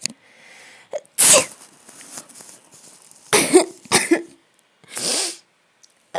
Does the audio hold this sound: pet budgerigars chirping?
no